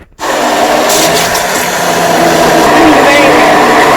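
A blender's motor whirs into a loud, steady pureeing drone as it blends a chunky homemade sauce, holding an even pitch to the end.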